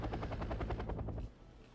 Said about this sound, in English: think that's one of the first times I've seen a helicopter actually run out of fuel